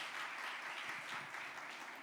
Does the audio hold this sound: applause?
yes